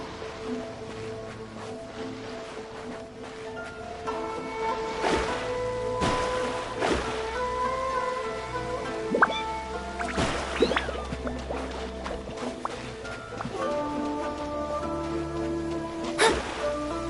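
Heavy rain in the video game Genshin Impact, a steady hiss of downpour with occasional sharper splashes, heard under sustained tonal in-game music.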